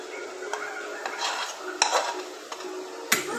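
Spice paste being worked into raw fish by hand, giving soft wet squelching and smearing noises with a few brief knocks against a bowl, close up and without speech.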